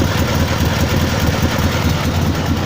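Dnipro 11 MT10-36 motorcycle engine with Chinese carburetors idling close up, a loud steady low rumble with rapid uneven knocking pulses throughout and no voices.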